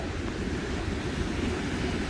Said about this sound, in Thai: นี่เป็นทะเล